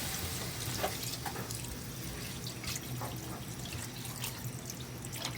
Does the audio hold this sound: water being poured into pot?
yes